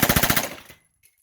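A 9mm firearm fitted with a Midwest Industries suppressor fires a rapid burst of about six shots in quick rhythm, close and loud, then cuts to silence.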